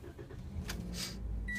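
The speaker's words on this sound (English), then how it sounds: "let's start the car" A 2015 Toyota Corolla engine starting: a quiet electric whir and short hissing bursts, then a low rumble that builds into a steady idle, heard from inside the car.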